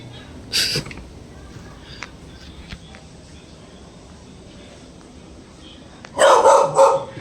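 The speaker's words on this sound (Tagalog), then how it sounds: "Yung aso nandyan." A dog yips once, then after a quiet stretch barks in a rapid, loud cluster of several barks nearby.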